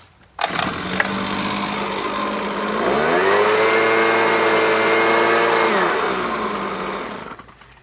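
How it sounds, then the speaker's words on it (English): A handheld two-stroke leaf blower starts up in a garage and runs loud and steady, its whine rising in pitch as the throttle opens, holding high for several seconds, then easing down before cutting off. "next up we're going to do the handheld leaf blower"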